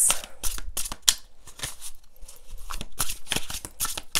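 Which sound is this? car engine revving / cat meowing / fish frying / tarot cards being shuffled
tarot cards being shuffled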